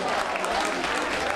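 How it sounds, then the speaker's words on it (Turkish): An award ceremony audience claps in a brief, dense burst of applause, steady and fairly loud for a moment. "Alkışlar."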